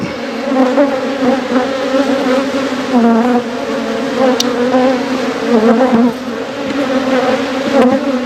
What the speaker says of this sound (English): Bees do not like getting woke up.